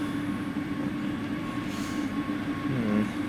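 Train rumbling past in Train Sim World 2 in the Leipzig City Tunnel, a steady loud rolling drone with a faint squeal and rising tones near the end.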